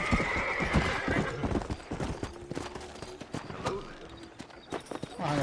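A horse in the video game Red Dead Redemption gallops with rapid, rhythmic hoofbeats and whinnies loudly near the start, the pounding hooves continuing close and prominent throughout.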